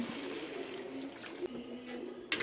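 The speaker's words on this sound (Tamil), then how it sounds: "இப்போ கொஞ்சமாக தண்ணி சேர்த்துக்கிறோம்" Water poured into a pan of chicken curry, a soft running trickle close by with small splashes and a brief louder burst near the end.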